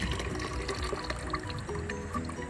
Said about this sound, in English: Now you grab your bowl with everything in it and you pour it in.